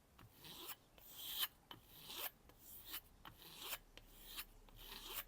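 A knife blade rasps rhythmically against a rough, ridged kangaroo tail strop, about a dozen steady back-and-forth strokes with a gritty scraping texture, close and fairly quiet.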